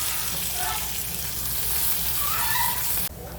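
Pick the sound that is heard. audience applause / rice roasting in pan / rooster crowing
rice roasting in pan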